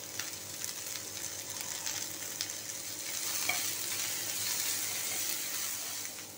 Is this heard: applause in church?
no